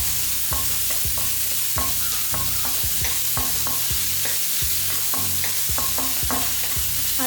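Vegetables crackle and hiss loudly in a pan over high flame for fried rice, with rhythmic sharp scraping and tossing strokes throughout, no talking.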